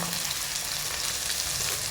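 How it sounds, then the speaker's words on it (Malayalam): A brief, steady hiss of fish frying in oil, close and constant, with no talking. "മീൻ വറുക്കാനുള്ള പാത്രം വെച്ച് എണ്ണ അടിച്ചു കൊടുത്തിട്ടുണ്ട്"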